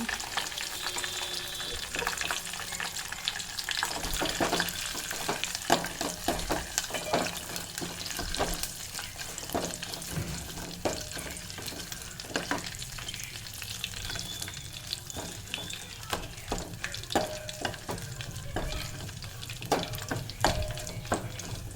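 Gongura tomato curry frying in a pan and being stirred, a continuous crackling sizzle with frequent scraping and tapping strokes of the spoon throughout, fairly close and steady.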